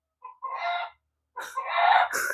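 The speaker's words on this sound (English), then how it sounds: "this rooster is annoying me" A rooster crowing twice nearby, a short opening call followed by a longer full crow, loud and alone.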